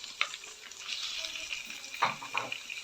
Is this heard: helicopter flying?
no